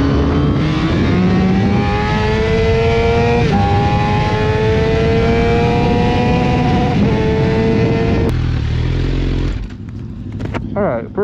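A motorcycle on Dunlop Q5S tires lapping a race track, its engine loud and close with a sustained high whine that rises and dips through gear changes, then drops away near the end.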